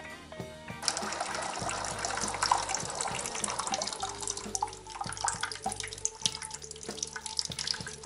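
Water drains steadily from a solar water heater system, a continuous splashing, gurgling flow with dripping and trickling, fairly close and alone.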